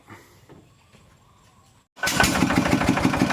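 A car that sat unused for about a year turns over after a brief quiet pause, then catches and settles into a loud, steady, slightly rough idle close by, with a faint voice at the start.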